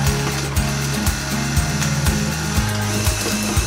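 Electric mixer beating softened butter for carrot cake batter, a loud continuous whirring motor with a rhythmic pulsing as the beaters churn, steady throughout with no voices.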